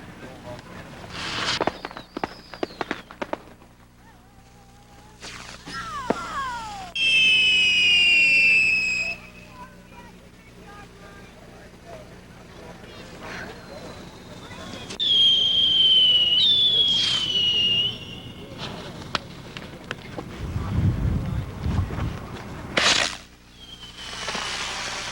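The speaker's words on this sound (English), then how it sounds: "Sorry, I have a firecracker." Firecrackers set off at the 1988 PGI pyrotechnics convention give sharp bangs and several loud, shrill whistling bursts that sweep down in pitch, with crackling pops between and voices talking in the background.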